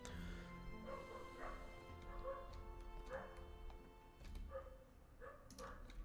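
A dog barks repeatedly outside, faint and distant, with irregular barks spread across the stretch under a quiet indoor room tone.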